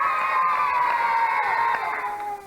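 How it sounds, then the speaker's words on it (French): A studio audience on a television show cheers and applauds as trial bike riders arrive, a loud dense wash of crowd noise that fades slightly near the end. "Vous pouvez les applaudir, ils arrivent"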